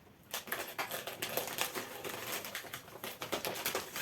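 Scissors or a blade cut open the packaging of a respirator mask, giving close, quick crunchy snips and crinkles in an irregular rapid rhythm.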